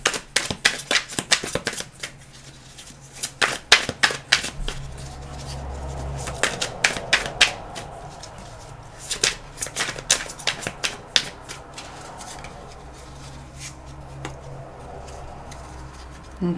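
Tarot cards are shuffled and drawn by hand, rapid crisp flicks and riffles in bursts with softer sliding between them, close and clear.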